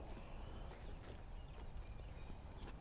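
A horse's hooves clip-clop at a steady walking pace during a ride, faint and close against low background rumble, with a sharp knock at the very end.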